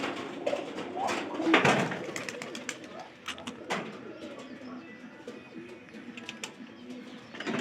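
A group of pigeons coos nearby in a soft, continuous murmur, with a few louder wing flutters and rustles mixed in.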